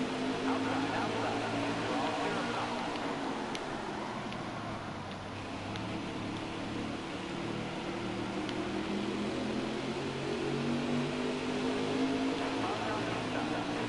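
Stock car engines roar steadily in NASCAR Heat 4, a continuous droning pack of racing cars with shifting pitch as they run close together on the track, heard throughout under occasional talk.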